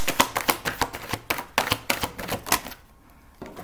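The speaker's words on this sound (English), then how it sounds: "So let me pull cards for the day." Tarot cards are shuffled quickly by hand, giving a rapid series of crisp riffling clicks, up close. They stop abruptly near the end, followed by a soft tap.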